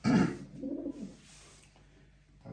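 A powerful male racing pigeon coos close by, a few low throaty rolling calls with short pauses between them, and no voices.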